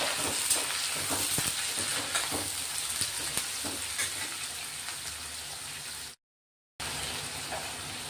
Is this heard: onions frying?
yes